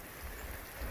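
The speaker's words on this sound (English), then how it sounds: "And man, it's raining." Steady rain with rainwater running through an outdoor drain, a low continuous wash of water close by with no voices.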